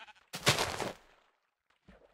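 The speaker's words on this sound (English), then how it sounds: "I heard a sheep." A single loud sheep bleat from Minecraft, close and clear with a rough, wavering tone, followed by near silence and a faint short sound at the end.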